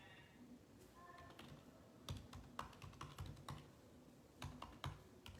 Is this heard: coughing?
no